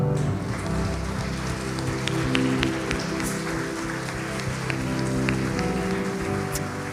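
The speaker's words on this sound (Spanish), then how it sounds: "¿Puedes dar un aplauso fuerte a Dios?" A church congregation gives loud applause to God: a thick, continuous patter of many hands clapping, steady for several seconds, with no talking over it.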